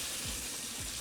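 Kitchen sink tap running steadily, a continuous hissing rush of water that stays close and even for the whole second, no voices.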